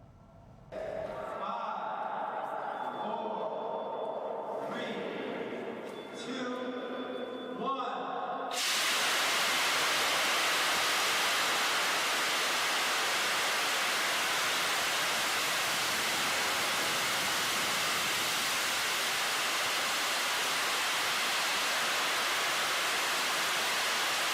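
A jetpack running on hydrogen peroxide and nitrogen gas, flying at a festival in Washington, gives a loud, continuous roaring hiss. It starts abruptly after a few seconds of voices and music and then holds steady and powerful to the end.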